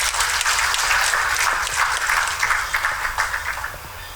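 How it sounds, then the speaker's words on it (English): Steady applause from an audience at a road safety week launch event, dense hand clapping sustained at an even level throughout, with no talk over it. "Let's give them a bigger hand clap, please."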